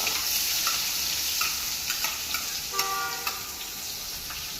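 Chopped onion hitting hot oil already seasoned with cumin seeds, asafoetida and curry leaves for onion poha, giving a steady close sizzle with a few light clicks and stirring taps.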